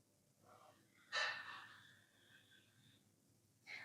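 Slow, deep breathing during a gentle beginner yoga session with sun salutations: a soft, airy inhale followed by a longer, louder breathy exhale, quiet and close, with another breath starting at the end.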